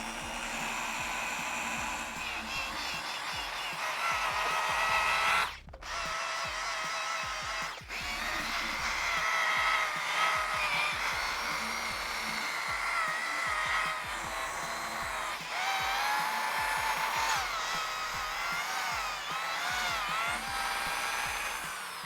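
A motorcycle exhaust on a BMW G310R is buffed with polishing compound using a steady, whining power polisher, loud and continuous at close range with two brief dips where the tool lifts off.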